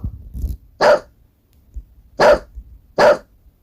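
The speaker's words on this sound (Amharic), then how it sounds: "ውሻ ማለት ነው። እስኪ ድምጹን እንስማው።" A dog barks three times, loud and close, with sharp evenly spaced barks and a quiet gap between the first and second bark.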